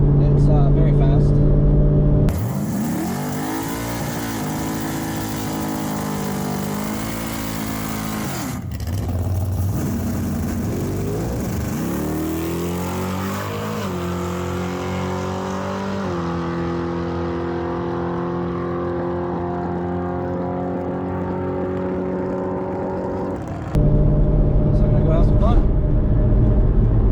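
Engine of a car revving and building on a 2-step rev limiter before launching at about 3500 RPM, a loud sustained rising drone that dips and climbs again, running long without talk over it.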